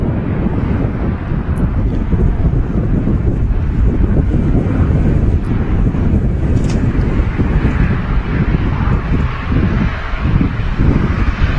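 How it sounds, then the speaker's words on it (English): Strong wind buffets an outdoor microphone at Manchester Airport, a steady, loud, low rumbling roar that persists throughout with no pause. "The wind has picked back up again."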